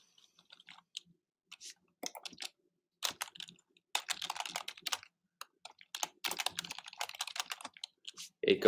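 Typing on a computer keyboard in quick, irregular bursts of clicks with short pauses between them, close and fairly quiet.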